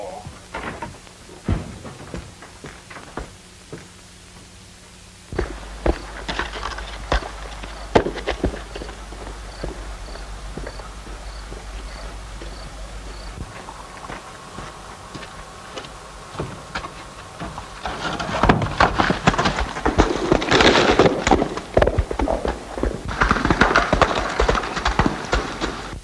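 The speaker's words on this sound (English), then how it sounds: "I'm going to ride that horse right now." Horse hooves clip-clop in an irregular, fairly close rhythm, growing louder and busier toward the end with scuffing and knocking mixed in.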